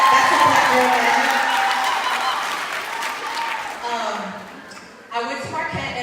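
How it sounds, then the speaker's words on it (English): Audience at a Black Girl Magic conference presentation claps and whoops, loud at first then tapering off over a few seconds, with a speaker's voice resuming near the end. "Yes, we can clap for that."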